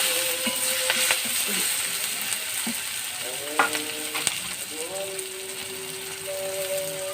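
Sliced onion goes into hot oil already tempered with a dried red chilli, a pinch of cumin and a bay leaf, giving a continuous close sizzle with scattered clinks and spatula scrapes, a faint voice briefly in the background.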